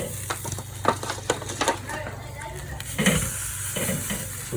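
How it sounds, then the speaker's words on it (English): Beef tri tip sears on a barbecue grill straight over hot coals, sizzling steadily up close, with sharp clacks and scrapes from tongs and a brief burst of louder hissing partway through. "We'll get them straight over those coals and sear away."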